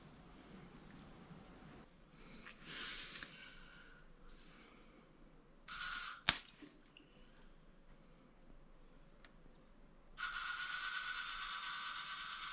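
The auger of a repaired pellet stove turns with faint, intermittent mechanical clicking and grinding, broken by a sharp clack midway and a louder hiss near the end.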